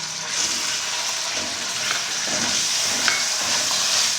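Chicken fries with garlic in a pan, a continuous bright sizzle with soft stirring scrapes and a few light clicks. No one speaks.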